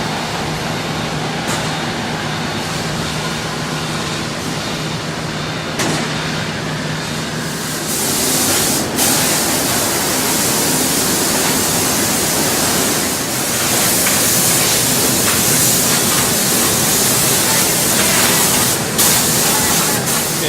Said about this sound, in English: Barbara's van's getting ready to move to Station 10 for seam sealing